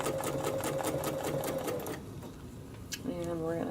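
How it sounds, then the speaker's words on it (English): A sewing machine stitches a quilt leaf for a feathered-bird quilt, its fast steady whir running close and continuous, pausing briefly midway before resuming with a higher-pitched hum. "And now I'm going to stitch the last leaf of this size."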